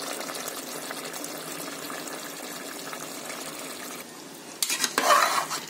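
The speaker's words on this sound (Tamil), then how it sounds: "தண்ணியை நல்லா மிக்ஸ் பண்ணி விட்டுக்கணும்." A ladle stirs water into chicken biryani made with seeraga samba rice in a pot, with a soft continuous scraping and swishing close by, then a brief louder splashy burst near the end.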